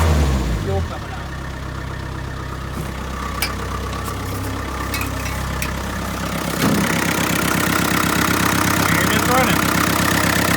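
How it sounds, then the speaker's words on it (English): A 2.25-litre Land Rover diesel engine idles nearby with a steady low rumble and rattly clatter, a few sharp clicks and a slight shift in tone partway through. "For a diesel, it's amazing how much it's so smooth the way it runs."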